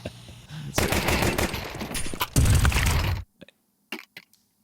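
Rapid bursts of automatic rifle fire in a Counter-Strike match rattle loud and close, a long sustained volley that cuts off abruptly, followed by a few sparse single shots.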